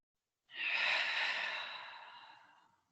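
A single slow, deep breath during yoga practice, starting suddenly, swelling into a long airy exhale that fades gradually, close and alone.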